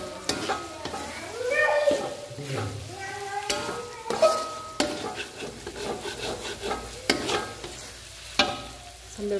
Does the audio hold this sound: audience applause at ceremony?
no